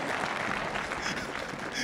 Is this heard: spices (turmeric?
no